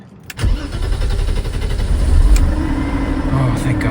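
A BMW E34 535i that sat unused for years cranks briefly and catches, then settles into a steady, close rumbling idle that runs for several seconds.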